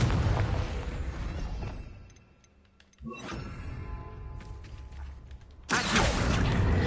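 A Confringo fire spell explodes in Hogwarts Legacy with a sharp crack, followed by crackling and rumbling, then a second loud burst of noise near the end. No one speaks.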